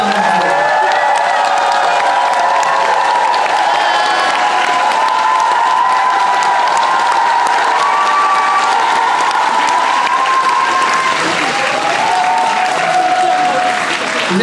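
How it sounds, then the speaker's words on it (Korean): Sustained, loud applause from a concert audience at a Korean traditional music expo, with cheering and scattered whoops from the crowd running steadily throughout. "우리 안티거든을 위해 박수 한번 주세요"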